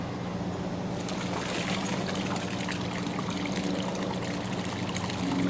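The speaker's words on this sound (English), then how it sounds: "I did want to add some more water to the pool" Steady stream of water pours and splashes continuously into a larger body of water, a constant moderate rushing sound.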